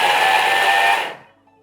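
A food processor at speed 9 grates cheese with a loud, steady whirring roar that cuts off abruptly after about a second, leaving near silence.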